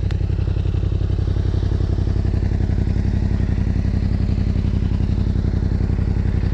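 A motorcycle engine running steadily and loud up close, with a rapid even exhaust putter and mechanical clatter throughout as the bike pulls away.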